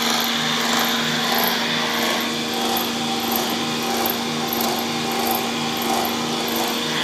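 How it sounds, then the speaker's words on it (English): Electric motor spinning steadily while driving a self-exciting alternator, a continuous close whine with a strong steady hum and faint periodic ticks, running alone without any talk throughout. "Now you can hear the motor free up"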